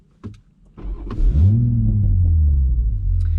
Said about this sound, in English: So let's start up the engine and see how this one performs.